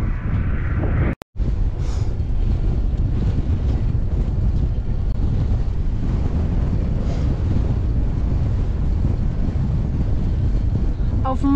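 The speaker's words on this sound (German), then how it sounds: "weil es so windig ist" Strong wind blows steadily across an open meadow on an outing, a loud continuous roar buffeting the microphone for the whole stretch apart from one brief dropout near the start.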